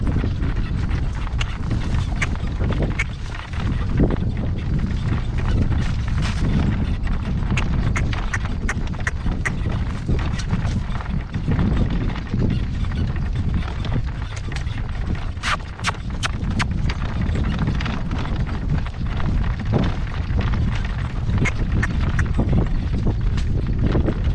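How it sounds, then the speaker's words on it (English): Horse hooves clip-clopping at a steady working trot, a continuous close rhythmic beat on dry ground, with occasional faint rider murmurs. "Working trot. Working trot."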